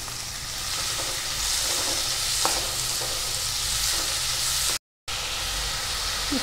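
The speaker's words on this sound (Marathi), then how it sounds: "कांदा आपल्याला शिजवून घ्यायचा आहे पावभाजीसाठी. हे बघा, तेलात टाकून घेते आहे." Onion frying in hot oil for pav bhaji gives a steady, close hissing sizzle with an occasional stir scrape, broken by a brief dropout of silence, no one speaking.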